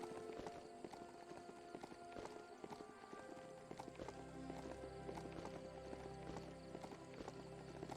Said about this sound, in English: Love our goat and all, but he could move a little bit quicker.